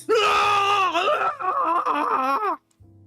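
A human voice imitates a character's anguished scream as he burns in a corpse incinerator: a long, wavering, strained wail in two breaths, loud and close, fading abruptly.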